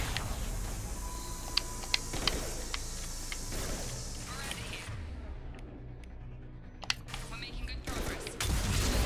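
Gunfire in the Mass Effect 2 sci-fi video game: scattered sharp shots and a rapid burst of impacts over a steady engine-like drone, with a quieter stretch before more cracks and a swelling rumble.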